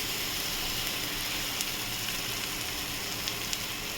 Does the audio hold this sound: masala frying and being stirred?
yes